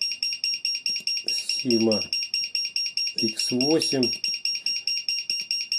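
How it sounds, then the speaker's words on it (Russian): A nine-inch quadcopter in an X8 frame beeps constantly at power-up, a steady, loud, rapid train of high alarm-like tones running through the whole stretch while someone speaks over it. "вот это так пищал у меня квадрокоптер"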